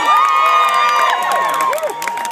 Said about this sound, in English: What an incredible crowd